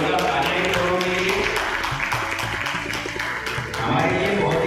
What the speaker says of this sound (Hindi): एक बात जोरदार तालियां के लिए